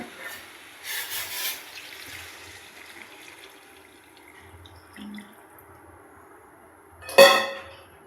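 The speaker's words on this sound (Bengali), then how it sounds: "এবার এই সাইডে করেছি গরম জল, ওইটা এবার এর মধ্যে ঢেলে দেবো।" Hot water is poured into a pan of jackfruit and shrimp curry, making brief, soft splashing bursts near the start and a sharper splash near the end, with quiet kitchen stillness in between.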